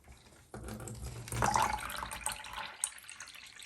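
Water pours out of a container of perlite growing media used for butterworts, starting abruptly, then gushing and trickling with splashy spatters, close and fairly quiet with no voices.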